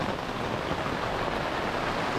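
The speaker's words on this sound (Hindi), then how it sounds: "it's raining heavily" Heavy rain pours down in a street in Goa, a dense continuous hiss that stays loud and even from start to finish with no voices over it.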